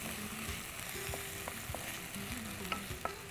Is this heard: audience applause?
no